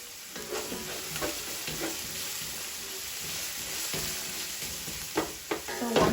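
Onion and garlic fry in hot oil in a pan, a soft continuous sizzle with occasional stirring scrapes and clinks of a utensil, growing a little busier toward the end.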